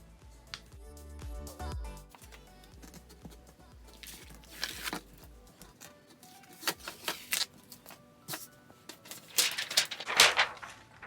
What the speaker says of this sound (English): we can go ahead and remove the vinyl.